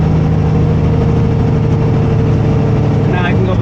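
Semi truck diesel engine with an 18-speed transmission droning loud and steady after double clutching, with a voice talking over it.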